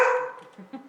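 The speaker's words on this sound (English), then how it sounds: "that's my dog in the background" A dog barks inside a house, heard as one sharp bark followed by faint yips and whimpers in the background.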